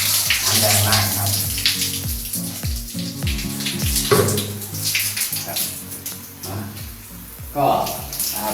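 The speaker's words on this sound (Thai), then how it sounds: "เปิดแค่นี้ก็ร้อนทันใจเลยครับน้ำแรงมากครับ" Strong, steady spray of hot water rushing from the shower head of a Mex Cube 3C electric water heater, loud and continuous throughout, with a voice talking over it.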